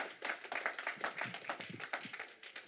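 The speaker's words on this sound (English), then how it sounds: "let's give the Lord a hand clap of praise" A church congregation claps hands in praise during a Sunday service, a rapid, uneven burst of many claps at a fair distance, fairly quiet and alone.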